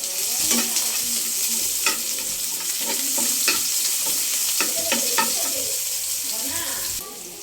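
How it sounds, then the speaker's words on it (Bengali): Dal being tempered in a pan sizzles loudly and hisses. A spoon stirs through it with repeated clinks and scrapes against the metal. "ডালটা বাগার দিয়ে নিচ্ছি"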